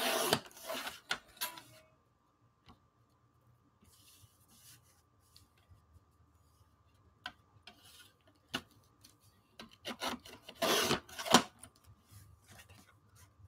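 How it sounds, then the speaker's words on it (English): A paper envelope is trimmed along its bottom edge, with quiet scattered clicks and small handling sounds, then a cluster of brief crisp cutting swishes near the end, close by in a quiet room. "So I'm just going to barely trim anything off the bottom of the envelope."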